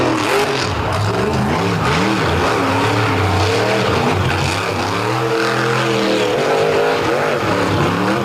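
A monster truck engine roars and revs loudly on a sand beach track, its pitch sweeping up and down as the throttle opens and eases, with a steady, dense mechanical drone filling the whole stretch and no voices.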